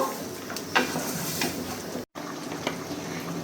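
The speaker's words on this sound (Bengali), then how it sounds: "এখন এটাকে খুব ভালো করে কষিয়ে নেব" Chicken curry pieces fry and sizzle in a pan, a steady crackling hiss with a few scraping stirs and a brief drop to silence partway through.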